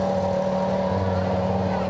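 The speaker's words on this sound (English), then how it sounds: "the revving machines, close up and loud, didn't disappoint" Formula One cars at a 2005 Melbourne demo parade, including a Minardi F1, rev loudly and close by in a steady, dense engine roar with strong droning harmonics and no pauses.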